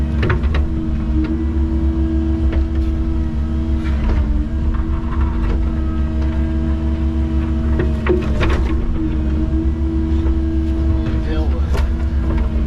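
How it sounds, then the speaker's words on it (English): A skid steer's engine drones steadily at close range as it tracks over and packs soil on a hillside, with faint clanks and rattles of its tracks running underneath throughout. "He's going to track and pack with that skid steer first"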